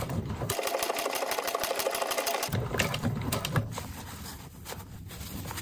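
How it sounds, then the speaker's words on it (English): A sewing machine back-stitches a seam junction on a laptop bag, giving a fast rhythmic stitching buzz that runs steadily through the whole stretch, close and clear. "I'm going to back stitch a couple of times"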